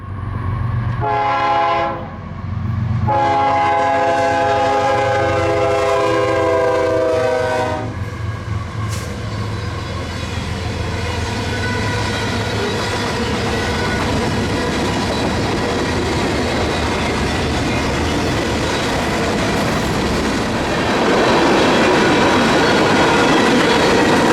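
A Kansas City Southern freight train carrying mostly intermodal cargo sounds its horn in several long blasts through the town of Simsboro, then roars past close by with rumbling wheels and clattering cars for a long stretch.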